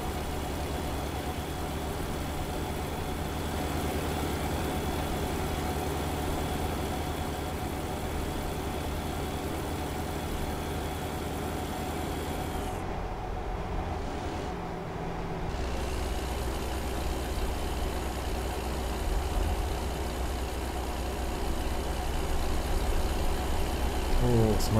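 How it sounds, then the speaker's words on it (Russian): A simulated heavy truck in American Truck Simulator, fitted with a new 600-horsepower engine, labours uphill while hauling a loader to a suburban construction site, a loud continuous drone that briefly dips partway through before resuming. "Тянет на гору, тянет. Новый движок наш. 600 лошадок, я вам напомню."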